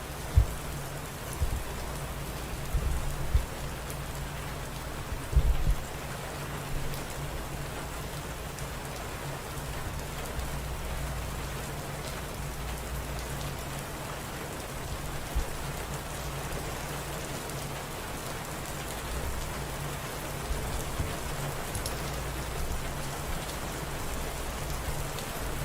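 Steady rain falling on a surface, a continuous even hiss of moderate loudness that lasts throughout with no talk and only a few faint low thumps near the start.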